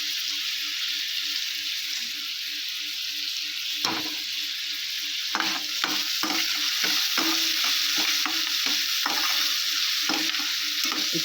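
Onions frying with salt and turmeric for egg curry, a continuous steady sizzle in a pan broken by repeated scraping stirs with a spoon, close and fairly loud, with no talk.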